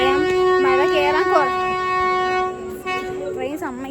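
A train horn blows loud and steady with strong harmonic tones that swell and dip, while rail rumble and a few brief tonal sweeps sit underneath, heard near a church pilgrimage site at Malayattoor.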